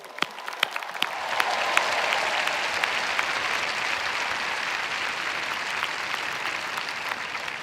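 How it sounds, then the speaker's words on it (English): Commencement audience at Stanford University breaking into sustained applause, starting with scattered claps that quickly swell into a dense, steady ovation in a large outdoor crowd. "let's give the dads in particular a round of applause"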